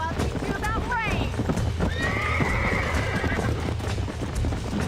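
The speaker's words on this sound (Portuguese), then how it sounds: "Let's see if we can track down that other herd of horses." Horses in the Red Dead Redemption video game neigh and whinny twice, shrill and fairly close, over steady hoof clip-clop and a busy game soundscape, with some talk mixed in.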